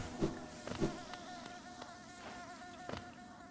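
Soft insect-like buzzing from little bees in the video game Hollow Knight, a faint, steady drone with a few brief louder pulses early on, heard alone without speech.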